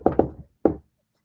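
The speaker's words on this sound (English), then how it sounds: "Hark, more knocking." Knocking at a door: two quick knocks, a softer tap, then a single louder knock after a brief pause, close and resonant, with no voices.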